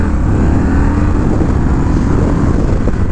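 Honda Rebel 1100 motorcycle pulling away under heavy throttle, a loud, steady engine drone that stays close and continuous with no voices over it.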